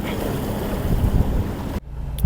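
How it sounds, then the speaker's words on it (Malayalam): Steady wind rushes across the microphone with a low rumble, then briefly drops away before gusting again at the end. "നല്ല തണുത്ത കാറ്റുണ്ട്."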